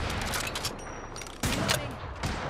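Rapid bursts of automatic gunfire from an Apex Legends firefight, loud and close, with a short break before another dense volley.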